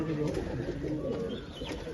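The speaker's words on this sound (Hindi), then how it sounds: "ये हमारे रामपुरी देसी कबूतर है" Rampuri desi pigeons cooing in a loft, a steady low murmur of several birds close together, continuous and dense, with faint chirps above it.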